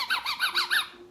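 A soft Infantino elephant baby toy squeaks five times in quick succession, each a bright rising-and-falling chirp, close and fairly quiet, followed by a brief faint tone.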